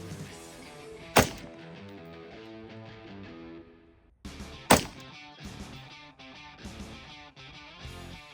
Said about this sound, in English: one-handed shooting with a Glock at 10 yards